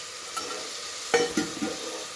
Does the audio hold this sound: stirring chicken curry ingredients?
yes